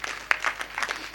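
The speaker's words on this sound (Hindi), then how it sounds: "ताली बजा सकते हैं।" Audience at a Hindi comic poetry gathering (hasya kavi sammelan) applauding, a brief patter of scattered clapping at moderate distance.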